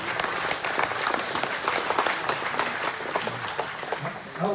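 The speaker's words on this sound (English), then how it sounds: "y'all, give yourself a round of applause for that" A crowd at a church wild game supper claps, a steady sustained round of applause from many people in a hall, moderately loud with faint voices underneath.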